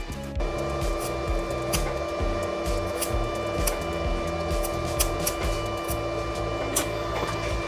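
A 5 mm iron plate is arc welded with 2 mm rod on a Hasston 120 A, 900 watt welding transformer at low amperage, a steady crackling buzz with transformer hum, close and continuous.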